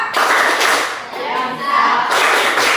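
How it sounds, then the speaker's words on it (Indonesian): A classroom of children performs the rhythmic 'tepuk matematika' clapping chant together, a loud, continuous wash of many hands and voices with a brief dip midway before surging back. "kita tepuk semangat lagi ya, tepuk matematika ya"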